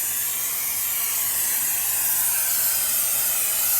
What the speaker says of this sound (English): You just spray this stuff over everything.